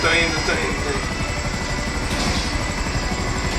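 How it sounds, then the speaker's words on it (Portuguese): Helicopter in the video game GTA V, a steady rotor drone held throughout under loud talking. "Vem um helicóptero aqui, pousa e entra no avião, irmão."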